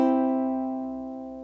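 A ukulele rings out in a short, bright plucked tone that sustains and slowly fades, alone and close.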